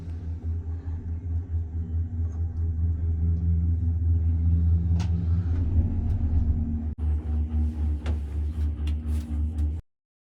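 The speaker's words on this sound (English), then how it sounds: "So we are at Mount Titlis in the gondola ride." Gondola cable car riding up Mount Titlis in Switzerland, a steady low rumble and hum from the cabin with a few faint clicks and knocks, then a rhythmic pulsing as it passes a support, ending abruptly.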